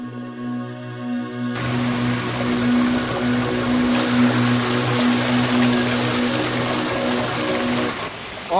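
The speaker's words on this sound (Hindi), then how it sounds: "ये एक छोटा सा झरना जैसा है" A small roadside waterfall in the hills near Nainital pours in a steady, loud rush of water close by, with a low engine-like hum running underneath throughout.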